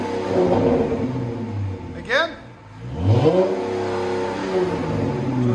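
A Dodge Challenger SXT/GT 3.6L V6 fitted with Flowmaster 44 mufflers revs its exhaust, rising in two throttle blips with a droning rumble between, close by, while a person speaks briefly over it.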